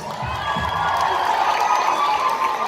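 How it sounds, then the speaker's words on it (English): A concert crowd cheering and clapping loudly, with shouts and whoops rising over steady applause in a lively, echoing space. "Give her a big round of applause."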